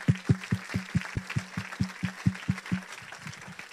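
A church congregation claps in a fast, steady rhythm, a dozen or so crisp, even beats close and fairly loud, then trailing off into looser scattered claps.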